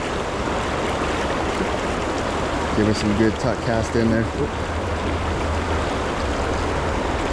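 The Weber River rushes past in a continuous, close broadband wash. Someone speaks briefly partway through, over the steady water.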